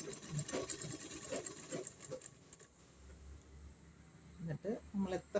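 Sewing machine stitching a saree blouse runs in quick whirring bursts, pausing and restarting, with a steady high whine and soft tapping, fairly close.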